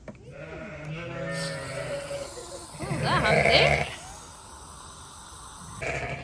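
Sheep bleat in lambing nursery pens, several wavering calls overlapping at close range, with a louder burst in the middle, while a person speaks briefly under the animal sounds.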